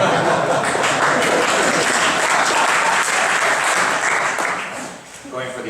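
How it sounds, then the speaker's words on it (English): Audience applause fills a conference hall after a talk, steady dense clapping at close range lasting several seconds before thinning out near the end. "Going for the obvious applause."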